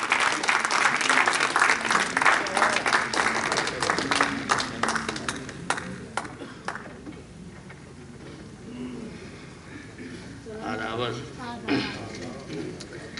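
Audience at an Urdu literary evening clapping to welcome a speaker, a loud burst of applause in the first several seconds that thins out, followed by voices talking over a murmuring room.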